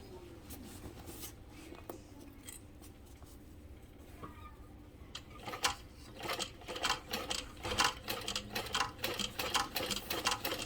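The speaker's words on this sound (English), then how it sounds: "from the seam side, I'm going to stitch in the ditch, which is in that seam we just made." A sewing machine stitches in the ditch along a seam while sewing a travel bag. It starts with quiet handling, then a steady close mechanical whir builds up and grows louder and more regular toward the end.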